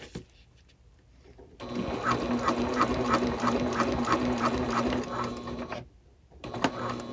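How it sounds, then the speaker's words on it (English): A sewing machine stitches along the folded edge of a tote bag, running in a steady rapid whir for about four seconds before stopping, then a few faint handling sounds follow. "So I will show you this at the machine, how I sew this."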